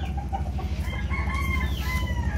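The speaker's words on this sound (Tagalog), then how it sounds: "So yan yung manok namin, guys." Chickens, a mix of game-fowl hens, cluck steadily close by while a rooster crows in the background, a busy outdoor farm-yard chorus with no talking.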